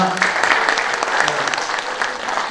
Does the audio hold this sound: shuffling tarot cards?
no